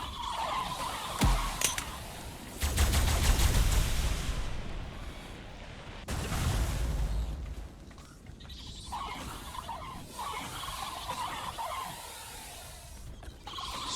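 Tech grenades explode in the game Ark: Ragnarok, several heavy booming blasts with rumbling low-end tails, separated by bursts of gunfire-like crackle and game noise, with no talk.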